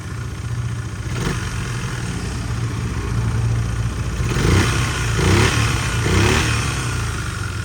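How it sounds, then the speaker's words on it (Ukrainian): A Yamaha Majesty 250 SG15J scooter engine runs at a steady idle with a low, even drone, swelling gently a few times as if lightly revved, heard close up with no talking. "Гарно, приємно працює двигунь."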